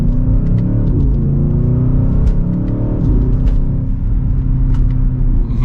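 A 2023 BMW XM sports SUV engine drones steadily with a deep exhaust rumble, building gently as it accelerates from second gear on the road, heard from inside the cabin.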